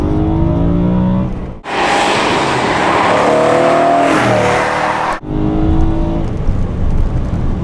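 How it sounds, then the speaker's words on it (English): The naturally aspirated V8 of a manual BMW M3 E92 roars up through the revs, loud and close, with a sharp rise in intensity as it accelerates hard, then settles back. "that naturally aspirated V8 sound"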